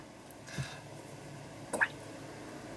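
Liquid is dripped onto an art journal page and left to run down and soak in, heard as two faint, brief wet drips and squishes close by in a quiet room.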